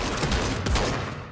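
Rapid gunfire in the video game Fortnite Battle Royale, a loud dense burst of overlapping shots with no pause for its short length.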